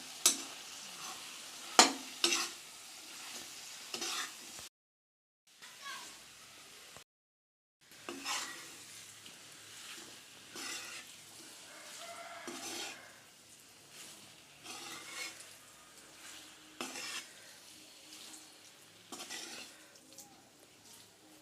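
Chunks of potato are stirred into masala in a pan, with soft intermittent scraping and metal spoon clinks over a faint sizzle, quiet and close, with brief silent gaps.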